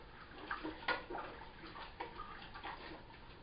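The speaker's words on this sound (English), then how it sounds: "we're going to take an empty can of fish stock and just fill it with water" Water runs from a tap into an empty fish stock can while a smoked fish chowder is being made, a soft, continuous splashing and gurgling at low volume.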